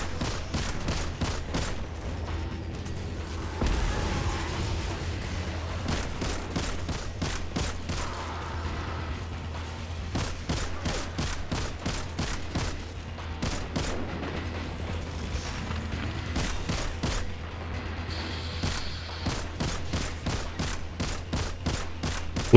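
Rapid gunfire from a Destiny 2 Nightfall mission, Savathun's Song: dense bursts of automatic weapon shots and single reports crackle steadily for over twenty seconds over a low droning game soundscape, with no talk.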